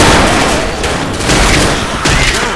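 Loud, dense gunfire in the video game Left 4 Dead, a continuous close barrage of overlapping shots and booms with no break.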